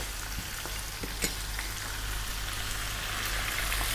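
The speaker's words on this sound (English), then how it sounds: "We're going to go in with that 1 cup of onion and our sliced" Chopped onion and sliced garlic sizzle and crackle in hot oil in a pan, a steady, close frying hiss with light stirring clicks and no talk.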